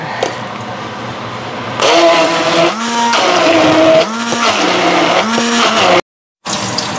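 An electric blender grinds galangal, lemongrass and coriander for spice paste, its motor whining loudly in bursts that rise and fall in pitch, with a short silent gap near the end.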